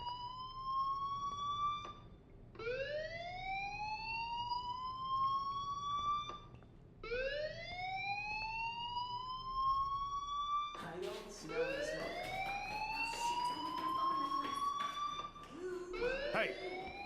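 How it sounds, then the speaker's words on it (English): A wailing school fire alarm in the Life is Strange video game, rising in repeated sweeping cycles, loud and steady, with a second overlapping alarm tone joining partway through. "do you hear that fire alarm?"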